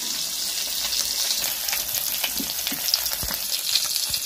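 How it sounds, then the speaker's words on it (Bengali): Lata fish frying in oil in a pan until golden brown, a loud, continuous close-up sizzle with bubbling crackles and occasional small pops. "মাছটা আমাদের প্রায় ভাজা হয়ে গেছে"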